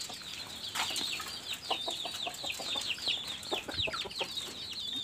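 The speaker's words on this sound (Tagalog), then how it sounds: "Yan po yung ating mga sisiw. Lumabas na po sila." Chicks cheep in repeated high, thin chirps, with occasional louder clucks from nearby chickens and a brief flutter of wings, all close and fairly steady with no talking.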